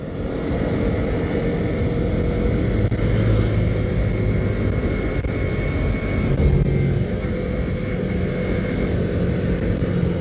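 A 2017 Yamaha MT-25 motorcycle's steady engine drone while riding, with continuous rumble and wind noise and slight shifts in pitch, loud and close throughout.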